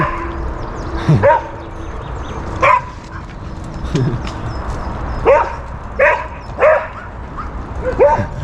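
A dog barks and yips in short separate bursts at moderate distance outdoors near an airport court, about seven sharp calls spread over several seconds against a background hum.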